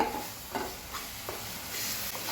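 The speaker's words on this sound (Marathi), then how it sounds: "छान स्लो गॅसवरती आपल्याला ना हा मसाला फ्राय करून घ्यायचा आहे, छान असं तेल सुटेपर्यंत" Masala spice paste fries in oil over a low flame for a Marathwada-style misal, with a faint, soft sizzle and occasional light stirring scrapes. No voices are present.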